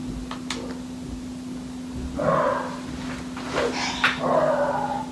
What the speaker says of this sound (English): My dogs keep on barking.